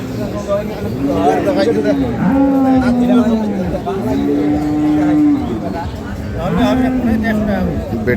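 Cows moo at a livestock market selling dairy cows with calves, several long drawn-out lowing calls in sequence, loud and near, over a background murmur of crowd voices.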